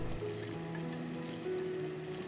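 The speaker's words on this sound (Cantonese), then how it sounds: "炒兩炒" Steady sizzling of shiitake mushrooms stir-frying in a little oil in a wok over medium-high heat, a continuous crackle with faint stirring, no voices.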